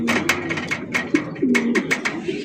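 Bombay pigeons cooing at a farm, a series of soft, rounded coos with brief breathy pulses, moderately close and fairly steady over a faint background hum.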